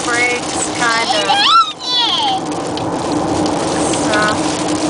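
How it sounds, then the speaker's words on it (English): Heavy rain pounds a moving car on a road into Georgia, a dense, loud, constant hiss, while a person talks briefly over it. "We are just coming into some serious rain mere moments after getting into Georgia."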